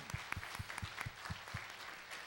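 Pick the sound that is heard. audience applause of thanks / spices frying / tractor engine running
audience applause of thanks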